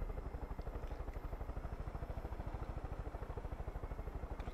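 Helicopter flying in the video game Far Cry 5, its rotor chopping in a fast, steady rhythmic thump with an engine drone underneath, loud and constant throughout, with no talking.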